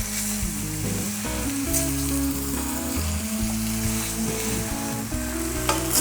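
Thin smash taco burger patties fry on a hot surface with a steady, loud sizzle that runs unbroken throughout, with no talking over it.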